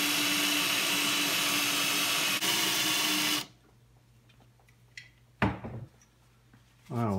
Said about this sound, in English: Now at medium speed, let the lapping compound smoothen out the inside diameter